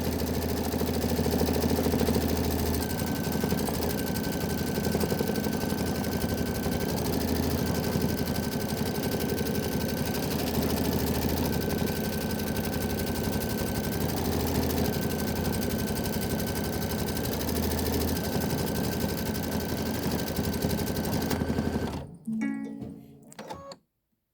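A sewing machine quilting a Kimberbell quilt block runs steadily and loudly up close for over twenty seconds with a constant whirring drone and faint repeating tones, then cuts off abruptly near the end.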